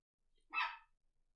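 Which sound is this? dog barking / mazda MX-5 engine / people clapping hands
dog barking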